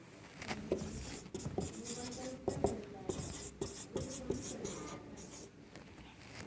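Marker or chalk writing out units during a Hindi-language Class 11 physics lesson on units and measurement, a steady run of scratchy strokes with short pauses between them, close and alone.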